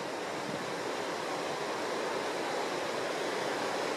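A small stream on a farm in Utah flows steadily, giving a continuous, even wash of running water with no speech and a faint, airy quality throughout.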